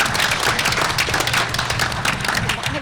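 Applause from a seated board meeting audience welcoming a nominee forward, a dense patter of hand claps sustained at an even level for a few seconds, fairly close, fading slightly at the end.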